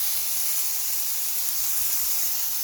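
Filet mignon sears in canola oil in a hot cast iron pan, giving a steady, loud broadband hiss and sizzle that holds evenly throughout.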